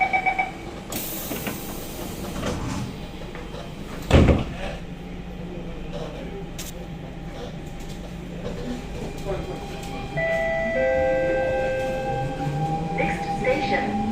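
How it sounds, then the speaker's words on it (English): SMRT C651 metro train doors closing on a run from Bukit Gombak toward Jurong East: a door chime and a brief loud thud of the doors shutting amid steady rumbling train noise, with a recorded announcement voice and tonal motor whine following. "Doors are closing."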